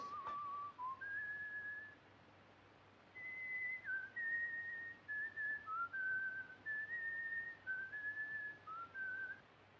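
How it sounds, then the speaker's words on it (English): A man whistles an English tune alone, with clear sustained notes in phrases and short pauses between them, over a quiet low hum. "That tune you are whistling, sir, it is an English tune, isn't it?"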